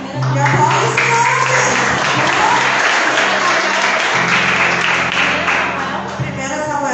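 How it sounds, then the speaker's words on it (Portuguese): A church congregation applauds at a youth worship service, a loud, steady wash of many hands clapping together that fills the room and holds for several seconds before easing slightly at the end. "E aplaude o Senhor"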